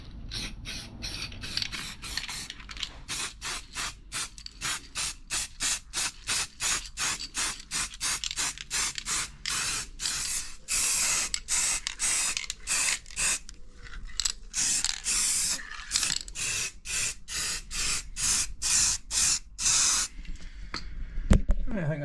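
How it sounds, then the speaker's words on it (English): Spray can giving PJ1 paint a quick blast onto a Royal Enfield Classic 350 motorcycle exhaust in a garage, rapid repeated hissing bursts in a steady pulsing rhythm, close and loud. "quick blast with the spray can"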